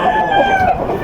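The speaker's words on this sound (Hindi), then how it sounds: "और तो मुर्गे बड़े ज़बरदस्त किस्म के आए हैं यहाँ पे" An Aseel fighting rooster at a market makes a short, loud, close clucking call, a brief throaty burst.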